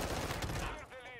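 Rapid pistol gunfire from the Modern Warfare 2 beta video game, a dense burst of loud, close shots over about a second that quickly trails off, with a voice talking under it.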